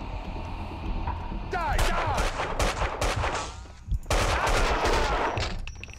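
Rapid bursts of gunfire in the Max Payne 2 video game, loud, close shots in clusters with ringing tails, a voice faintly underneath.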